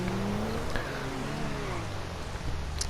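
A Pegassi Torero sports car engine in GTA Online hums and revs steadily, a continuous throaty Lamborghini-like drone with shifting pitch, no voices.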